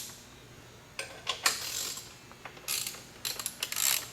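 A 3/8 drive ratchet loosens 10 mm bolts on a 2020 GasGas EC300 dirt bike, giving several short bursts of close, crisp ratcheting clicks with brief pauses between strokes.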